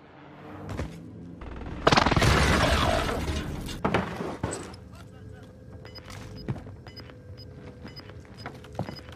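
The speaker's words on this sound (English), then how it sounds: "Enemy precision airstrike." Precision airstrike explosions in Call of Duty Warzone on Rebirth Island, several loud booms and shattering blasts in a cluster, then scattered thuds and mechanical clatter as players talk over them.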